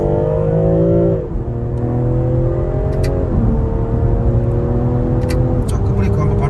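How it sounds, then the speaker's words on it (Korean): A BMW M340i Touring in Sport Plus mode accelerates, its loud in-cabin exhaust drone rising steadily in pitch, then dropping sharply at each of two gear shifts before climbing again. "자, 이제 스포츠 플러스 모드를 놓자마자 배기음이 바뀌었어요."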